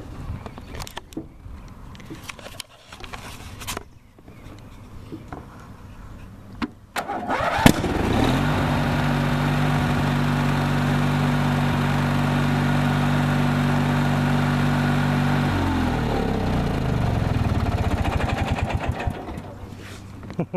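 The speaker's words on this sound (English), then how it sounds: "I don't know what that backfire is all about" A lawn tractor engine cranks after a few scattered knocks, catches and settles into a loud, steady idle with a low drone, then the pitch shifts as it runs on, close by.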